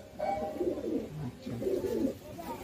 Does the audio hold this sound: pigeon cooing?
yes